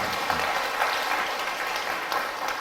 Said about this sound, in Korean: 박수 한번 쳐드리죠.